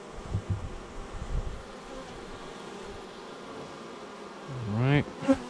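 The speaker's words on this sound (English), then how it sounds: "Bees can get off of there now." Bees hum steadily around a newly installed hive, a dense continuous drone close to the ear, with a louder rising whine from a single insect passing near the end.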